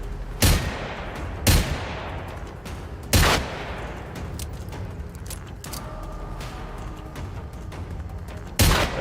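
Revolver and hunting rifle shots ring out in the video game Generation Zero: five loud, widely spaced reports, each with a sharp crack and a rumbling decay, set against quiet game ambience with no talking.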